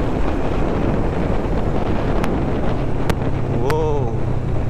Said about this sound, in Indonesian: Ini angin gede banget nih.